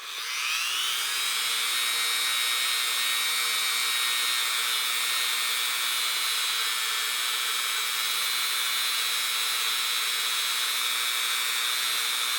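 A high-pitched rotary tool whines steadily at close range while polishing the feed ramp of a stainless steel pistol barrel under light pressure, running continuously without pause.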